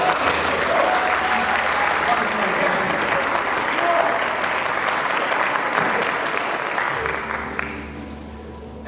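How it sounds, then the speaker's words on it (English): Dense, sustained applause from an audience at a 100 Black Men Beautillion commencement ceremony, with steady clapping that continues for several seconds and then eases and thins toward the end. "I also want to have all of us give a round of applause for the mothers,"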